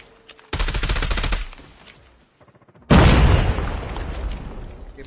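Amid video-game gunfire, a rapid machine-gun burst rattles for about a second, then after a short lull a frag grenade detonates in a loud, booming explosion that decays over a couple of seconds.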